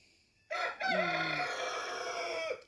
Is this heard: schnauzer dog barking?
no